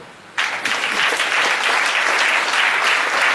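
A church congregation bursts into sustained applause and clapping after a short quiet lead-in, the clapping dense and steady to the end with crowd noise mixed in.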